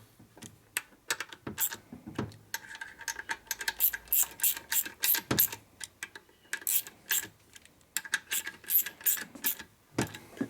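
A ratchet wrench works a nut loose on the primary of a 1972 Harley-Davidson Sportster XL Ironhead, with rapid bursts of crisp clicking and brief pauses between strokes, close and clear, no speech.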